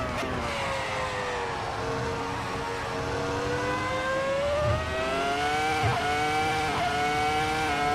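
Racing cars drone continuously in a racing video game, with steady, loud engine tones that rise and fall slightly as the cars run at speed, alone with no voices.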